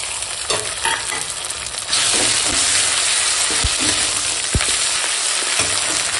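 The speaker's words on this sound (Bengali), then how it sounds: "পেঁয়াজ বাটাটা ভাজা হয়ে গেছে, এখন দিয়ে দিলাম আদা রসুন বাটা" Onion paste with ginger garlic paste frying in a pan, a loud steady sizzle that grows fuller partway through, with occasional scrapes and knocks of stirring and no talk.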